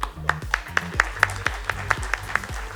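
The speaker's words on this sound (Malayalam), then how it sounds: "നല്ലൊരു കൈയടി കൊടുത്താട്ടെ എല്ലാവരും" A small gathering claps at a Malayalam ATMA actors' association event, about ten evenly spaced single claps in a slow regular rhythm, close and fairly faint, with no speech.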